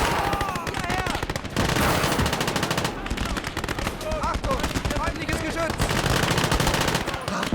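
STG-44 assault rifle and machine gun fire in a World War II video game battle, with rapid loud bursts of automatic shots, short gaps between volleys and sharp ricochet-like whines.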